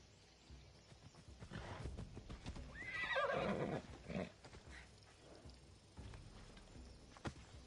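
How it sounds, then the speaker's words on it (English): A horse in Assassin's Creed Odyssey lets out a clear whinny midway, with clip-clop hoof steps before and after, heard alone without talk. "Yeah, let's get my horse here."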